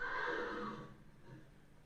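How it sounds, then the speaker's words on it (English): A horse whinnies loudly and close by for about a second, the call trailing off into a quieter snort or breath, in a stable scene from the television drama The Sopranos. "You can't keep the horse in the house, Tony."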